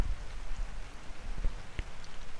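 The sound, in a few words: rain falling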